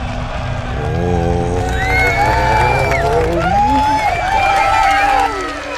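A large crowd cheers and whoops at a Star Citizen ship reveal, the roar swelling loud and sustained with excited voices and shouts rising over it before it eases near the end.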